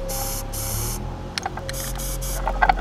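Short hissing bursts from an aerosol can spraying Plasti Dip rubber coating onto a truck, several quick sprays in a row over a low background hum, with a few faint clicks.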